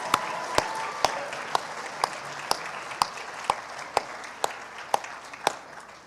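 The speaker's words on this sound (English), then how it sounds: "Nice round of applause." Round of applause at a school assembly for the homecoming king and queen, a steady crowd clapping texture punctuated by sharp, regularly spaced loud claps close by.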